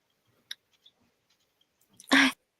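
A single short, sharp sneeze bursts out after a few faint clicks and small mouth noises in an otherwise quiet room.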